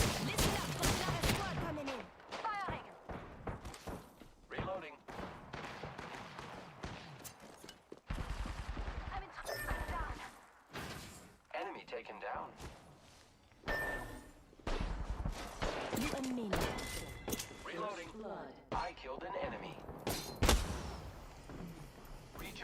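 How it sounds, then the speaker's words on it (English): Video game gunfire crackles in rapid bursts and scattered single shots, moderately loud, mixed with quick voice lines and other battle sounds over the whole stretch. "The enemies are shooting."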